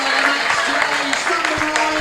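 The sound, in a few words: crowd applause at football match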